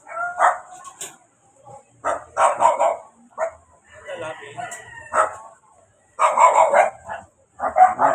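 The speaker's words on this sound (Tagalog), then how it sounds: "Ayan, mga aso." Several dogs bark and yip in short irregular bursts, fairly close, with some vocal sounds mixed among them.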